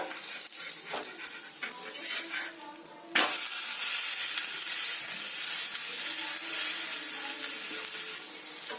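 Semolina batter fries on a flat griddle for a tiffin snack, a steady close sizzle with stirring scrapes, then a sudden louder burst that settles into an even, bright hiss.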